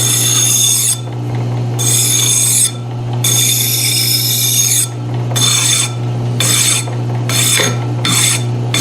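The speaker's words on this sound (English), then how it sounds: "all I'm doing is watching where I'm filing" A hand file rasps across a metal knob from a 13-inch South Bend lathe being polished. It plays as loud, close strokes in long passes, then faster, shorter ones, over a steady low hum.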